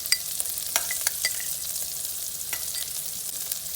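Chopped garlic frying in a pan, a soft, fairly quiet crackling sizzle with scattered small pops and light stirring, no voices.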